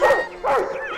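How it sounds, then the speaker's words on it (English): A family dog named Barney lets out two quick, close barks with a yelping, whimpery edge, the second following shortly after the first. "Barney jumped up and barked at the mischievous creature."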